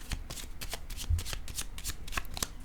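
Tarot cards being shuffled by hand: a steady run of crisp, close riffling and flicking strokes for nearly three seconds, with no voices over it.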